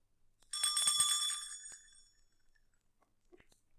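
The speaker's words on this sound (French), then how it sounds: "Elle fera tinter ses petites cloches comme ceci." Small bells tinkle in one bright, shimmering burst of about a second that rings and fades, marking a page turn in a French read-along of The Ugly Duckling, followed by a few faint clicks.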